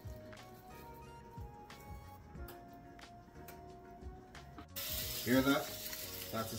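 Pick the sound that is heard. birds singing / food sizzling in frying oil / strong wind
food sizzling in frying oil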